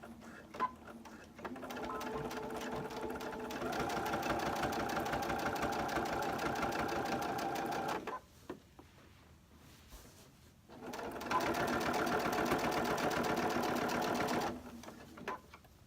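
Sewing machine stitching along the edge of a fussy-cut applique dog blanket, running in two long steady bursts with a short pause between them, close and loud with no talking.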